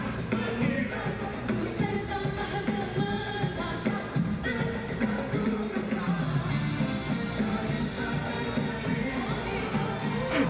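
A large crowd cheers and shouts at a tribute concert in Kuala Lumpur, a dense, steady roar blended with the music throughout.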